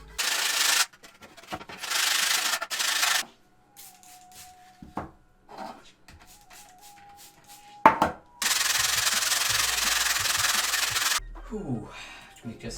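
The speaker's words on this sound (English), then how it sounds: "we do have to sand the bottom of this one and clean it up" Abrasive sanding scrubs across the bottom of a piece in long loud rubbing bursts, separated by quiet pauses containing faint clicks and a brief tone, all close by with no talking.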